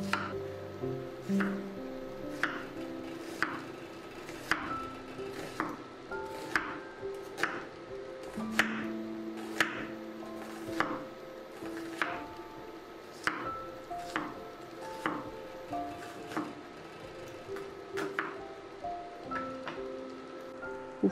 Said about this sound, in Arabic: نقطع البصل حلقات رفيعة